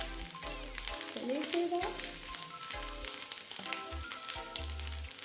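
Omena, small fish, frying in a pan, a loud continuous crackling sizzle close up, with a person speaking briefly over it.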